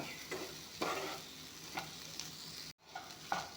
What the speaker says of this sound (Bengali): এইখিনি অলপমান ভাজি ল'ম যাতে মছলাখিনি ভালদৰে মিক্স হৈ যায়